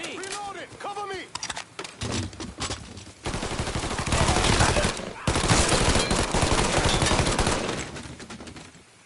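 Gunfight in the action game Mafia 3 Definitive Edition: dense, loud bursts of automatic gunfire and scattered single shots roll on almost nonstop, with characters shouting between volleys.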